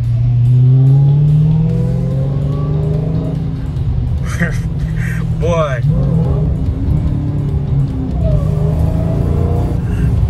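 A 2023 Dodge Challenger Hellcat Jailbreak engine in default mode revs and accelerates, heard from inside the cabin with windows up, with someone speaking briefly over the rumbling exhaust.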